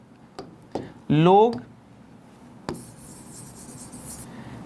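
Pen or marker strokes scratching out maths notation on a board, a few sharp taps and short squeaky scribbles, fairly close, with a brief stretch of quiet in between.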